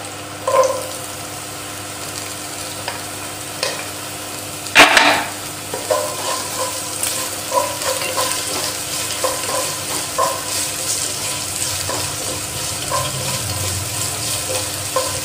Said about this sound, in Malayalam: ഇനി നമുക്ക് ഇതിനകത്തേക്ക് ചെറിയ ഉള്ളി ചേർക്കാം